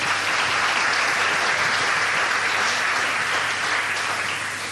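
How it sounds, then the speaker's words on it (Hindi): A community hall audience applauds Raveen ji at a question-and-answer gathering, with sustained broad clapping from a sizeable crowd, even and unbroken, fading slightly at the end. "सो प्लीज़ जोरदार तालियां दीजिए रवीन जी को"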